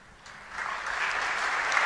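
A church congregation applauding first-time visitors, the clapping swelling quickly from scattered hands into steady, dense applause that fills the room.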